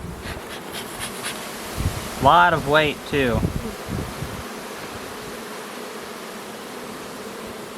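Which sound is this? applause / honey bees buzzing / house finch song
honey bees buzzing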